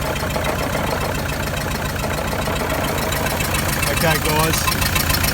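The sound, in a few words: damaged car engine knocking at idle, suspected cracked piston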